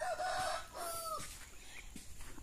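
Chickens on a small farm plot, a rooster-like crow followed by scattered clucks and calls, moderately near with faint background and no speech.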